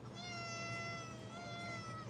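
A kitten meows in a long, drawn-out tone, close and fairly quiet, with a steady hum of room noise underneath.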